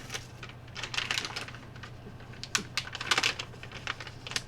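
A resealable beef jerky package is handled and opened, giving a run of close crinkling, clicking plastic sounds in short irregular bursts with no talk.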